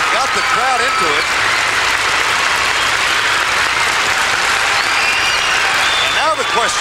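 Arena crowd at the 1990 World Figure Skating Championships men's free skate applauding steadily and loudly after Christopher Bowman's program, a dense sustained wash of clapping with a commentator's voice rising over it.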